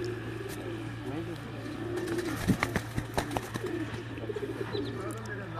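A pigeon on a rooftop coos in a run of soft, low, rhythmic pulses that grow more frequent toward the end, close by, over a steady low hum and background noise while people talk around it.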